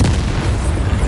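Expulso spell blast in the game Hogwarts Legacy, a loud deep boom with a rumbling tail that fills the whole moment, heard alone.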